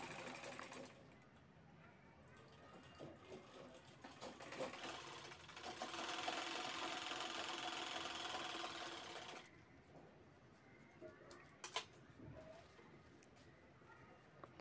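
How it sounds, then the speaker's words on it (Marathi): Sewing machine stitching the sides of a handbag, a quiet close whirring run of stitching in the middle with softer starts, stops and handling clicks around it. "आता बॅगच्या दोन्ही बाजू शिवून घ्यायच्या आहेत."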